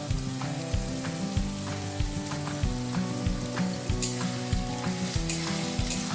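Onion and garlic fry in a pan with a continuous, dense sizzle and crackle, fairly close, with a regular scraping stir repeating about once a second over it.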